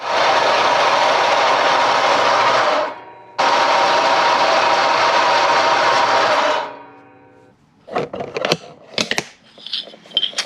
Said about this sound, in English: let's go ahead and set the bandsaw up and cut these things down